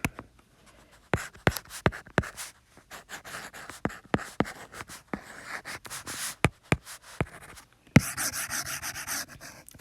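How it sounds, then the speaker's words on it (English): A pen scratches and rubs across paper while a graph is drawn on, in a series of short strokes, with sharp taps and a rougher scrubbing burst near the end, close and fairly quiet. "I'm actually going to draw it right on top of the graph."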